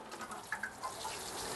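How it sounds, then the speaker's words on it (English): Water pours steadily from a large watering pot into a potted bleeding heart plant, a soft continuous splash and trickle, close and fairly quiet. "I'm actually going to give this water right now."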